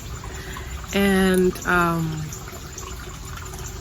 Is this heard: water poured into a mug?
yes